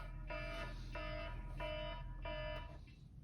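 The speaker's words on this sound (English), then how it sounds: "that's an aggressive alarm every time" A loud, harsh alarm sounds in four repeated bursts, each about half a second long with short gaps between them, then cuts off near the end. No one speaks.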